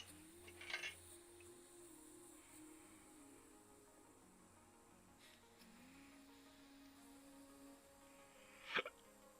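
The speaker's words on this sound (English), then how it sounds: "My apologies for the hiccups." Two sharp, isolated hiccups from a man, one near the start and one near the end, heard alone over a low steady engine-like hum with a faint shifting tone.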